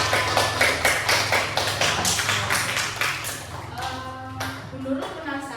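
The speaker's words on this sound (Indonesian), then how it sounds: "Beri tepuk tangan." Students in a classroom clap together for a presenting group, a steady run of close hand claps with some voices and shuffling underneath, thinning out toward the end.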